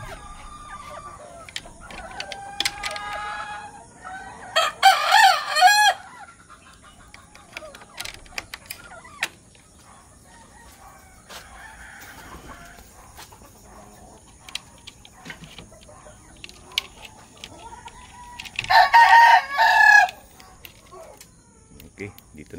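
Gilmore Hatch gamefowl hens in a breeding pen, with two loud bursts of crowing and clucking about fifteen seconds apart, scattered softer clucks between, and someone talking at points.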